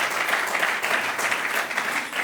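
Audience at a stand-up comedy show applauds in a brief, steady burst of clapping that holds at an even level.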